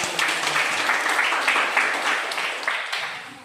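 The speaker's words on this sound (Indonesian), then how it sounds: "Berikan tepuk tangan." A classroom full of people clapping steadily for a few seconds during a lesson, dense and close, gradually tapering off toward the end.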